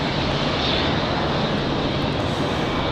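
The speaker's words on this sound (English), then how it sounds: "So the next arrival, Delta 2699, coming in from Minneapolis, 2 hours and 4 minutes of flight time. Coming up right now." Delta airliner arriving from Minneapolis at Raleigh-Durham International Airport, its engines giving a loud, steady, broadband roar close overhead, with no talking.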